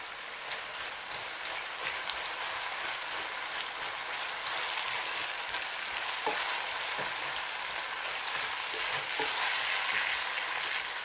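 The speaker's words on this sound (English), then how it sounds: "add our spring onion and then our ginger and garlic. Mix everything up" Spring onion, ginger and garlic frying for fried cabbage, a soft, steady sizzle with faint crackles and occasional stirring, growing slightly louder midway, no speech.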